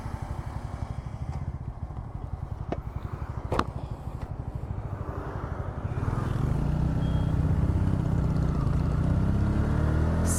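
A Bajaj Pulsar N160 motorcycle pulls away in second gear on Bangalore roads, its engine thrumming steadily, then rising to a louder, fuller roar as it picks up speed, with a few faint clicks early on.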